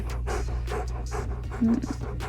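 A dog pants steadily and close by through the whole stretch, with quick rhythmic breaths over a low constant hum and a brief louder puff near the end.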